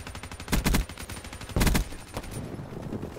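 A video game gun fires in rapid automatic bursts: two loud, dense volleys, then a shorter trailing burst, close and punchy, with no talking.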